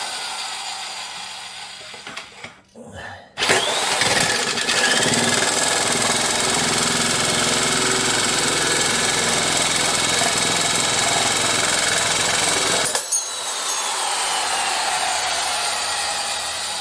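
Makita 10-gauge heavy-duty sheet metal shears cut stainless steel with a loud, steady, high-pitched motor whine and gritty chatter, starting after a short pause and running for about ten seconds before dropping to a lower hum.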